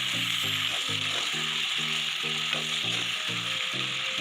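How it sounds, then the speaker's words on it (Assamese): Chopped tomatoes fry in a pan and are stirred in a home kitchen. A steady, close sizzle runs throughout, with a rhythmic tonal pulsing over it. "এইখিনি ভালদৰে সিজালৈকে, বিলাহীটো যাতে সিজি যায় তেতিয়ালৈকে আমি ভাজি থাকিম।"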